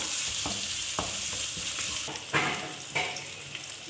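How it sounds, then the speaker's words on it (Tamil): Large chopped tomato sautéed in a pan with a spatula for egg kothu parotta, giving a steady close sizzle with periodic scraping and stirring strokes, no voices. "இதை கொஞ்சம் நல்லா வதக்கிக்கிடுவோம்"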